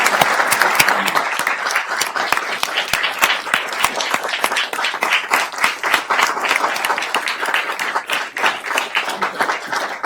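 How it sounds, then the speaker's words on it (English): Sustained applause from an audience at a governmental council meeting, honoring Mayor Quinn: dense, steady clapping from many hands lasting about ten seconds, fairly loud and even without letup, with no talking over it. "Let's have a nice round of applause for Mayor Quinn"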